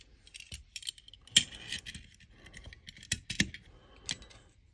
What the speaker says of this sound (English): all you're going to do is reinsert the spring, follower, and mag block into the magazine